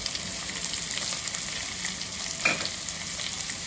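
Capsicum, cabbage, carrot and beans stir-fried together for veg hakka noodles, a steady close sizzle with light tossing and one brief metallic clink, no voices.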